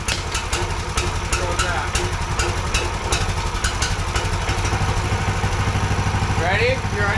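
A small gas engine with its choke on runs steadily throughout, loud and close, with a rough, even idle and sharp clicking transients early on, while a person speaks briefly over it.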